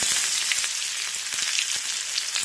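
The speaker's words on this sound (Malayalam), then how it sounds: "കറിവേപ്പില ഇട്ട് കൊടുക്കാം" Curry leaves sizzle and crackle loudly in hot sesame oil with popping mustard seeds, a steady close frying hiss with sharp pops throughout, while a bitter gourd pickle is being made.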